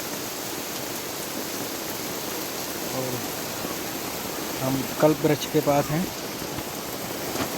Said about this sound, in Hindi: खूब झमाझम बारिश हो रही है